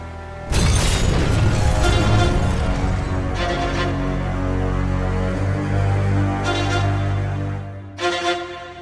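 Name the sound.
explosion sound effect in audio drama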